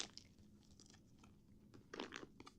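A pet crunches through hard, crunchy treats in a series of irregular bites and chews, faint and close, with a louder burst of crunching near the end.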